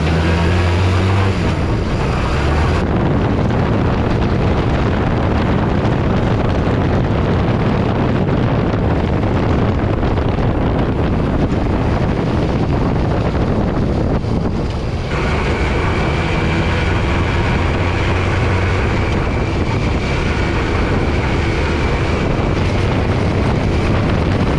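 A heavily modified go-kart with a swapped-in street bike engine on a test drive, a loud continuous roar blended with strong wind buffeting throughout, the tone shifting partway through as it keeps running.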